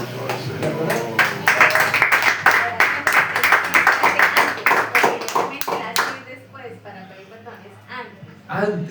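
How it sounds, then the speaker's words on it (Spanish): A church congregation claps in praise during a prayer service, with quick, fairly close handclaps running for about six seconds before fading into scattered quieter sounds and murmuring. "Un aplauso al Señor"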